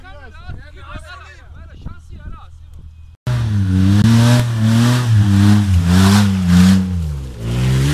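A person talks for the first few seconds, then an off-road car engine cuts in loud and near, revving up and down in rising and falling sweeps.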